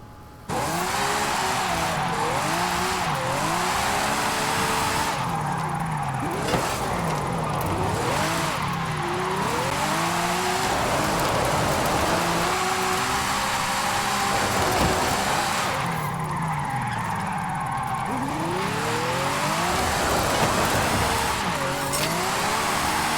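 A 1987 Ferrari F40 with an all-wheel-drive drift tune repeatedly revs up and down through sweeping engine pitches while its tires squeal and skid in long slides, loud and continuous.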